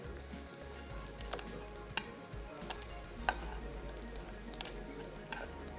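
Coarsely chopped garlic sizzles and fries in a pan while being stirred, a steady close crackle with scattered clicks and scrapes from the spoon, no voices over it.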